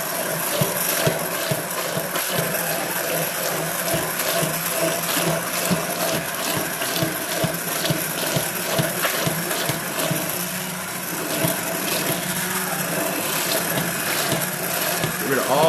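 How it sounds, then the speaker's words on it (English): A hand blender purees homemade marinara sauce, a loud, steady grinding whir that runs unbroken for the whole stretch with rough scraping texture and no talk over it. "By using a hand blender."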